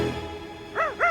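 A cartoon police dog gives two short, sharp barks near the end, after a quiet stretch with a faint tone underneath.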